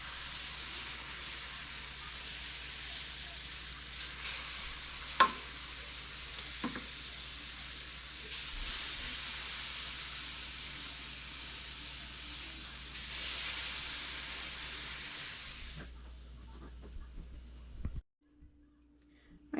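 Banana pancake batter sizzles on a greased grill, a steady broad hiss with a few small pops, close and continuous before cutting off near the end.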